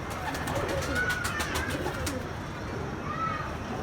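A pigeon of a mustached breed coos softly outdoors among rustling and background noise, with a few short feathery flutters early on. The sound is faint and close.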